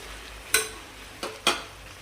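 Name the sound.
mixing washed basmati rice into chicken biryani pot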